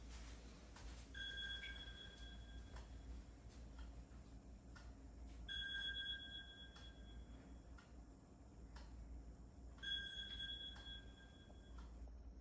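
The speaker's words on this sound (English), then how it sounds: "let me switch off the alarm." An alarm beeps in three evenly spaced, faint bursts of steady tones over a quiet background hum, with soft ticking around them.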